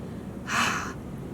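A single deep breath is let out slowly during a children's story and movement session. The exhale is a soft, breathy rush of about half a second, close to the microphone, with no talking.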